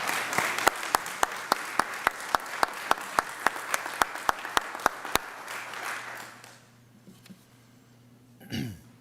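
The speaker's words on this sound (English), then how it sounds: "please join me in a round of applause for both of them anyway." Audience at a school district staff recognition event claps in a steady burst of sparse, distinct hand claps for about five seconds, then fades to quiet room tone.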